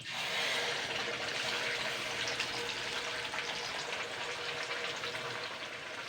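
Ground spice paste drops into hot oil in a kadai for a Bengali prawn dish, giving a steady, soft, hissing sizzle that holds evenly throughout without talk.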